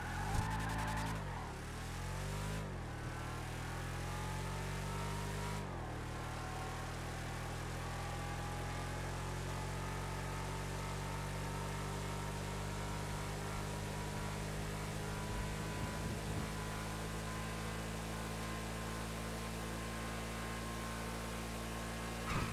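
A car in Grand Theft Auto (the Western Rampant Rocket) runs a timed speed test, its engine droning steadily at high revs with brief shifts and skids early on, then a sustained loud whine throughout.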